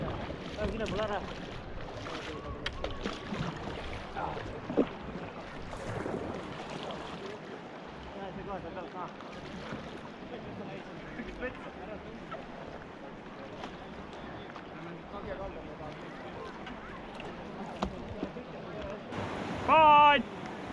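A boat moves on the river during water rescue work at a canoe marathon, with splashing, lapping water and wind around it while voices talk throughout, and a brief louder burst near the end.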